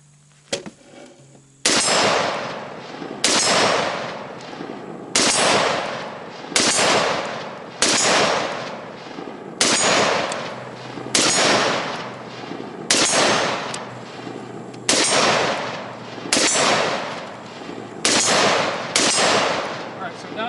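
A firearm fired repeatedly during a shooting drill over heavy-duty training mats, loud sharp reports spaced roughly every one to two seconds, about a dozen shots in a row, with no speech.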